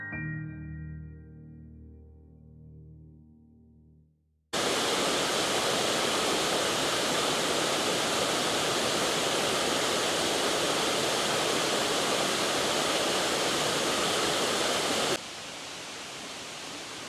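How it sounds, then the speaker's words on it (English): A mill stream pours away from a weir in a loud, continuous rushing roar that starts abruptly after a quieter opening and keeps a steady wash throughout. "There is your mill stream just coming away from the weir"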